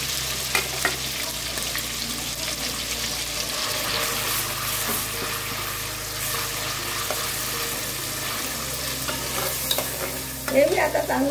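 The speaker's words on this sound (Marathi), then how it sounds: "हे मी आता चांगलं परतून घेते." Onion, coconut, ginger and garlic paste sautéing in a pan for a village-style chicken curry, with a steady broad sizzle and continuous stirring scrapes throughout, fairly close and with no talking.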